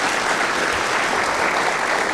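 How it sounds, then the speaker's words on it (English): Dense, steady applause from a keynote audience at the LCA conference, a broad even roar of many hands clapping without a break. "Another quick round of applause for Jess."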